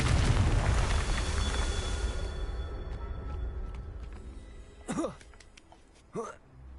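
Confringo fire spell blasts in Hogwarts Legacy: a loud rumbling explosion that trails off, then two short bursts while a voice calls out the spell name.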